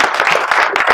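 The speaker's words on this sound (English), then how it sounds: "Morning or afternoon, round of applause," Audience applause at an African investment leaders' summit, a brief burst of dense, close clapping from many hands.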